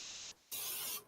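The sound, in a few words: spraying oil on turkey leftover pastries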